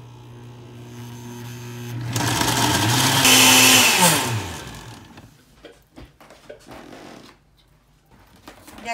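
A blender grinds ingredients for green chile water, a loud steady whir that rises in pitch as it spins up and then winds down after a few seconds, followed by quieter clinks and handling sounds.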